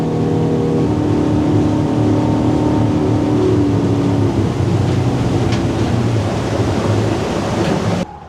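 An outboard motor on a small training motorboat maneuvers in reverse toward a pier, a loud close drone with shifting tonal whine and water wash, cutting off abruptly at the end.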